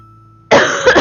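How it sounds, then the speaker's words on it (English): A single sharp cough bursts out of near-silence, close and loud, with a short rough tail as the throat clears. "I don't know why I keep coughing."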